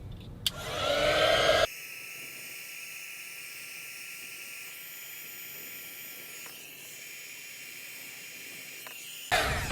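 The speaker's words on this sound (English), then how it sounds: "now we'll just heat shrink that down" Heat gun shrinking heat-shrink tubing over soldered wires while fitting LED cab lighting in a Ducato campervan; a loud, steady blowing hiss runs for under two seconds, then cuts out into a quiet background.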